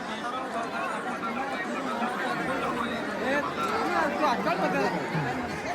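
A busy Sunday crowd at Jejuri fills the air with dense, continuous chatter from many voices, steady and close throughout.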